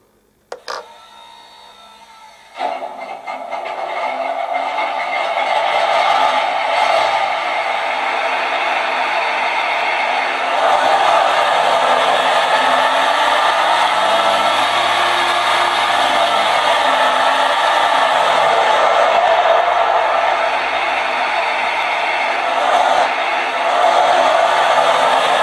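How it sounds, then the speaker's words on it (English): Steady electronic RC motor hum from a TBS Mini multifunction sound card in a Benedini RC setup, beginning after a brief quiet start and holding a continuous droning whine throughout, loud and close with slight shifts in pitch. "So that's the motor sounds."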